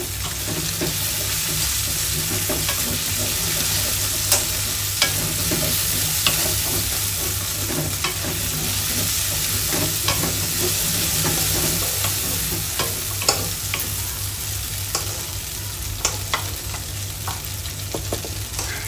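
Garlic fries in oil while being stirred in a pan, giving a continuous close sizzle with frequent scraping and clinking of the utensil against the pan for nearly twenty seconds.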